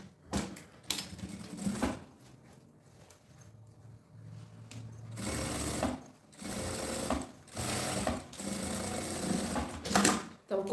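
A sewing machine stitches the lining of a fabric school bag in several loud, steady bursts of whirring needle action, separated by short pauses and quieter handling sounds.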